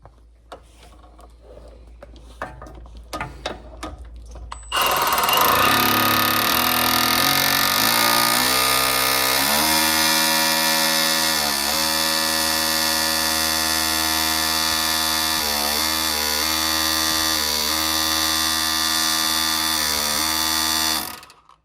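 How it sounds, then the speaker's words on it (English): After a few faint knocks, an SDS hammer drill starts up loudly and chatters continuously for about fifteen seconds chiselling out a Volvo front ball joint, its pitch wavering as it bites, then stops. "chisel it with an SDS drill"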